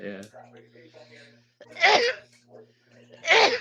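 Two sharp, loud sneezes from a person sitting among quiet conversation, each a sudden close burst, with people talking softly before and between them.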